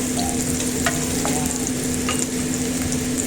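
White onion sautéing in butter in a pan for a Filipino vegetable stir-fry with fried chicken: a steady, close sizzle with light stirring scrapes, continuous and alone.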